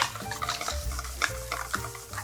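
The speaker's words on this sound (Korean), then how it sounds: "부추하고 밀가루하고 잘 입혀지게 골고루 섞어주세요" A spoon stirs a thick chive pancake batter of flour, chopped onion, chives and chili in a bowl, giving soft wet squelches and light scraping taps in a steady rhythm, close and fairly quiet.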